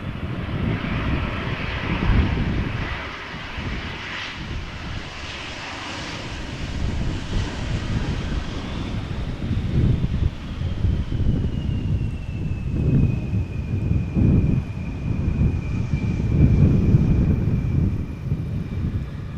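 A KLM airliner on flight 1556 from Turin arrives at Amsterdam Schiphol, its engines a steady broad roar with a slowly falling whine, mid-distance and continuous, with some wind buffeting the microphone.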